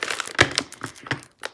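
Plastic bags from a mystery stationery grab bag crinkle and rustle in a close run of sharp, irregular bursts with a few brief pauses, no voices.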